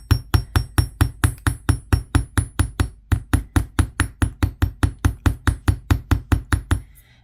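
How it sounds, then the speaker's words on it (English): A hammer taps aluminum wire to texture it for a handmade crystal suncatcher: about two dozen light, evenly spaced strikes in a steady, quick rhythm, close and clear with nothing else around them. "you'd let the hammer do most of the work. See, I'm not holding it hard, I'm just kind of gently tapping it"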